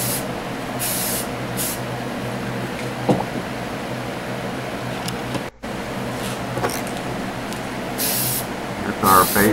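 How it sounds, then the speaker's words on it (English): Rust-Oleum Metal Etch Primer spray-painted from an aerosol can onto a diecast James Bond DB5 model, giving several short hissing bursts over a steady background hum, close and moderately loud, with someone speaking. "I like to use the Rust-Oleum Metal Etch Primer"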